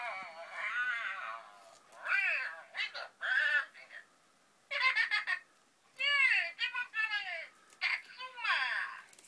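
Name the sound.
Katsuma Moshi Monster soft toy sound when tummy squeezed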